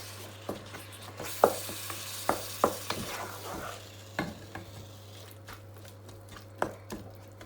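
Ingredients for an okra and tomato sauce frying in a pan, a soft steady sizzle with close spoon stirs and scrapes knocking against the pan at irregular intervals, over a low constant hum.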